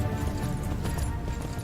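A horse's hooves clip-clop in the video game Myth of Empires, a quick, steady patter of hoofbeats at moderate loudness with no talking over it.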